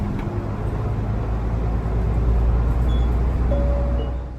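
A sightseeing loop bus in Aizu drives along, a steady low engine and road rumble holding throughout at a fairly loud level, with no talking.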